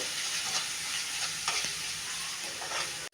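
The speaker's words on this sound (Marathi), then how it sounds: "आता हे चांगलं हलवून घेऊ" Dhania powder, byadgi chilli and kala masala being stirred in hot oil for matki bhaji, a steady close sizzle with occasional scraping strokes of the spoon against the pan and no talking.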